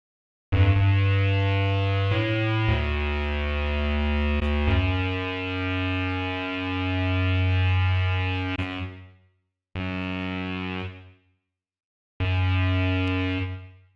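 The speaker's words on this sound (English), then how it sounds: "So you can hear that extra distortion being added." A sustained synth tone with a gritty, overdriven distortion, playing a few held notes, then two short repeated bursts separated by brief silences.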